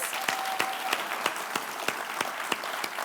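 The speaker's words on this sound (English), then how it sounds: "Please give them another round of applause." Audience applause for award winners at the 2023 LGH Polaris Awards evening, steady clapping with a few louder, sharper claps standing out at a regular pace, plus a faint tone early on.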